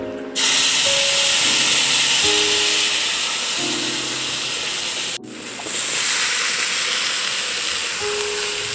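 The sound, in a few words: spice paste poured into hot kadai sizzling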